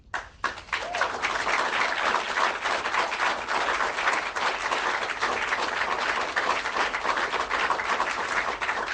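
Sustained audience applause at a political speech, dense steady clapping from a large crowd that swells quickly after a brief opening sound and continues loudly without pause.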